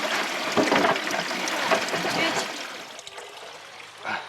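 Water runs and splashes steadily at a water pump station as it is drawn, a close, gushing trickle that tapers off near the end, with faint voices in the background.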